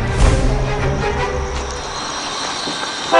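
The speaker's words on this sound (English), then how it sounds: "Got a real train here." A real train runs along the railroad tracks near a crossing, a loud rumbling, clattering roll that stays steady through the clip and swells again at the end.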